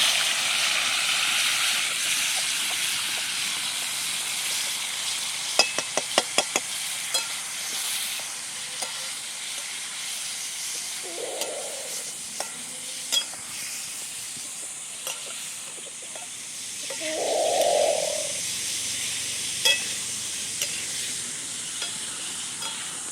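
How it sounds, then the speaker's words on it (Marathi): Prawns sizzling in hot oil for a Maharashtrian-style prawn dish, with a steady close hiss, a burst of rapid scraping from stirring with a utensil, and two brief louder surges of sizzle partway through. "तेल गरम झालंय आता कोळंबी टाकून घेते"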